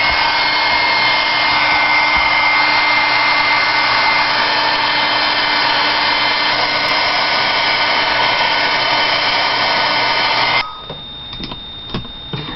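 A heat dryer blows steadily and loudly at close range while drying ink on a stamped pumpkin craft, then cuts off near the end, leaving faint handling noises.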